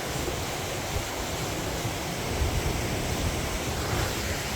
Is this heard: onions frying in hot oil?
no